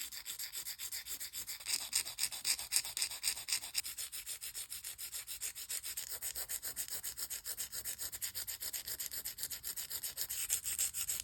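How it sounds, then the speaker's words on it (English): Acrylic nail tips being shaped with a 100/180 grit hand file: quick, rhythmic scratchy strokes rasp back and forth continuously, close and fairly soft, with no talking. "Then I'll shape them with a 100 and 180 grit hand file."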